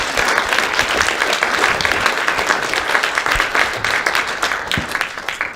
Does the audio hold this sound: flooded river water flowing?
no